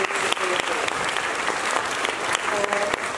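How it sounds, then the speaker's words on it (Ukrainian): Audience applause fills a music school's annual recital hall, dense steady clapping from many hands held at an even level throughout, with no pauses or voices standing out. "прошу ваші аплодисменти"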